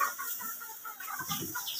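Soft, scattered clucking from several 100-day-old Egyptian Fayoumi pullets, low and irregular, with a rustling background and no talking.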